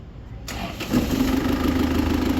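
An Isuzu 4JA1 diesel engine cranks briefly and then catches, settling straight into a steady close idle with a constant hum.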